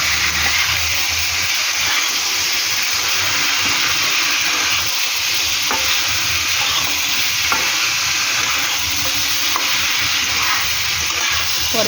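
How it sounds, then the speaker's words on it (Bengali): Tomatoes frying in a pan while being stirred: a constant loud hiss of sizzling with occasional clicks and scrapes of the spoon, close up and without talk. "এবার এটাকে ভালো করে নাড়াচাড়া করবো।"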